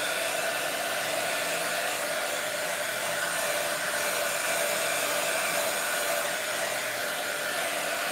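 A hair dryer runs steadily on a DIY painted kitchen plaque with stripes, a constant close, loud whooshing blow of air that holds an even tone throughout with no talking.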